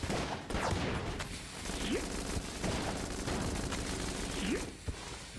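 Gunfire rattles almost nonstop in the video game Enter the Gungeon, loud bursts of shots with short whooshing bullet sweeps mixed in, and no talking over it.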